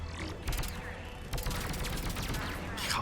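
Bursts of DLC weapon fire in Mass Effect 3, a few sharp shots in quick succession near the start and middle over steady game background noise, with faint talk.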